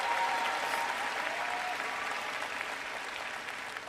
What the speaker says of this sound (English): I want you all to give a round of applause for your family and friends here today